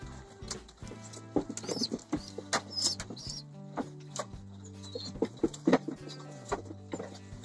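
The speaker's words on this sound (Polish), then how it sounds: "Możecie zobaczyć, część gołębi jest puszczona." Racing pigeons in a new loft make soft scattered coos, wing flaps and light pattering over a low steady hum, with irregular nearby bursts of movement.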